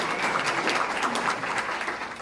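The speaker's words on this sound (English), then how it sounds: "He deserves that round of applause and probably more." Steady applause from an audience at a fireside chat event honoring a board member, dense overlapping claps filling the whole stretch at moderate volume with no talking.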